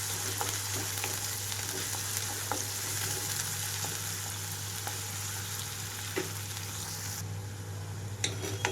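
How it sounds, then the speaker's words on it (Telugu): Sliced onions and green chillies frying in a pan as part of a potato and fenugreek leaf fry, giving a dense, even, close sizzle that runs without a break, with a few faint clinks near the end. "ఉల్లిపాయలు పచ్చిమిరపకాయలు బాగా వేగిపోవాలి"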